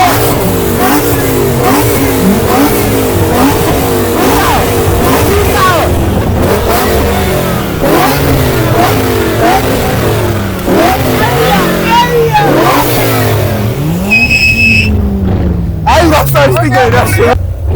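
A Mercedes C63 engine with upgraded turbochargers revs hard again and again at a car meet in Tbilisi, pitch climbing and dropping in loud bursts, while voices talk nearby.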